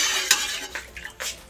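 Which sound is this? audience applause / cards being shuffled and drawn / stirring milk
stirring milk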